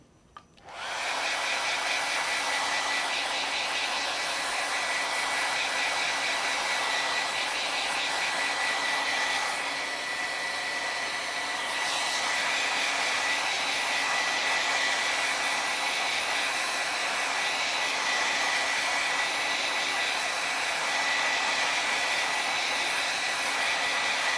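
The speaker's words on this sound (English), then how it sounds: "just touch this with a blow dryer really quick" A hair dryer blows continuously at close range over wet craft paint, a loud steady whooshing roar that starts abruptly and holds for the whole stretch.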